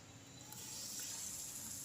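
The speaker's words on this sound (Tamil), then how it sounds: "தோசை ஊற்றிடலாம்." Dosa batter poured onto a hot tawa gives a soft, faint hiss and sizzle that swells slightly after the first half-second and holds steady.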